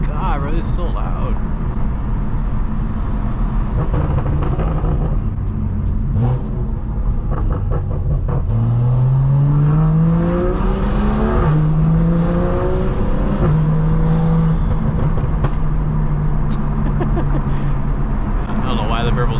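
A BMW F87 M2 exhaust rumbling and burbling loudly from inside the car while driving, with engine revs rising and falling across gear changes and people talking throughout.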